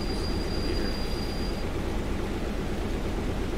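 A CN Rail SD70M-2 diesel locomotive in the game Stormworks accelerates, rumbling steadily with heavy low-frequency drive noise, and a thin high whine fades out partway through; no voices.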